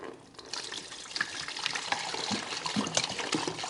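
Water is poured into a Panaromia self-cleaning ice maker, giving a continuous splashing, gushing pour with a steady close sound for several seconds and no talking.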